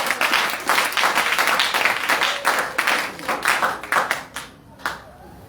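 A church congregation at a Sunday service bursts into sustained, dense applause from many hands, loud and close, then tapers off into a few scattered claps at the end.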